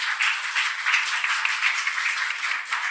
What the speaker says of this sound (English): A round of applause to yourself for coming here.